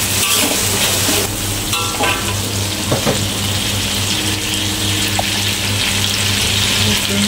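Yellow onion frying in a pan with tomato for a mackerel and ginger dish, a loud, constant sizzle and hiss with a few scraping stirs over a steady background hum.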